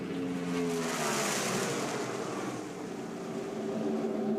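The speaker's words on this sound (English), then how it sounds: "Jeff Gordon getting a pretty good jump on the rest of the field as they head down the backstretch." NASCAR stock cars racing down the backstretch at Atlanta in the 1999 spring race: a continuous loud engine roar from a pack of cars, with steady droning tones and a slight swell and fade as the field passes.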